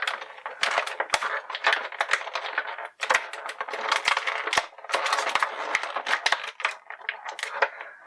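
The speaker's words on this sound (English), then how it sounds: "If you'll bear with me while we do some package crinkling here" Plastic packaging from a DC Universe Classics Flash action figure crinkles and crackles close up as it is pulled open, in dense, irregular bursts with a brief pause partway through.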